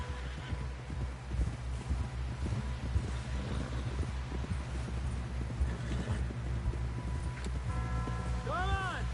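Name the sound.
horse galloping in Red Dead Redemption 2 video game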